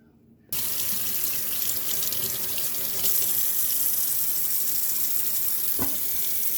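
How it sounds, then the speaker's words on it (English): Steady tap water runs loudly into a sink as raw bone-in chicken thighs are rinsed, starting abruptly after a brief quiet moment and continuing as a constant splashing rush with a small knock near the end. "first thing you want to do is rinse the thighs off thoroughly"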